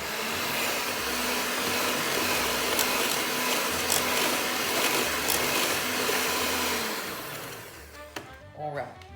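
A blender blitzes lemon jelly into a peppermint tart filling, a steady loud whirring drone that runs continuously for about eight seconds before cutting off, followed by a few faint knocks.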